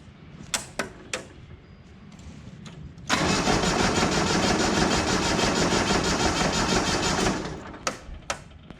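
A diesel engine cold-starts after its glow plugs are cycled: a few sharp clicks, then a loud rough clatter lasts about four seconds before it cuts out and more clicks follow.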